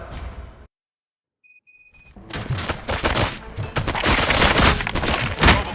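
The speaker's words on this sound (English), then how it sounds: "Gunshots?" Gunfire erupts in RoboCop: Rogue City, a dense burst of loud shots and impacts after a short silence and a few faint electronic beeps, continuing as a chaotic fusillade.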